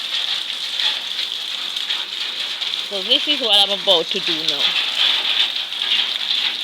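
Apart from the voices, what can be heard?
rain falling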